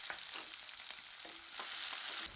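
Shallots sizzle and crackle in hot oil while cooking karamani kadaiyal (black-eyed pea dish), with a steady frying hiss and occasional stirring scrapes, close and fairly quiet.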